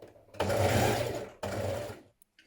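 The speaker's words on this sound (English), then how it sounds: "Stitch your skirt to your bodice" A sewing machine stitches the skirt of a midi dress to its bodice in two close, loud motor bursts, the second shorter, separated by a brief stop and ending in quiet.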